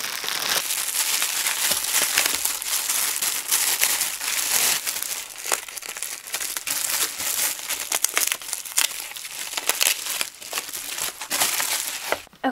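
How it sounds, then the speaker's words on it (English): Paper wrapping crinkles and crumples loudly and steadily around a packaged Teddy Blake Ava handbag, a dense crackling rustle that carries on without pause for about twelve seconds, close up with no talk. "You can see it's wrapped nicely in the paper."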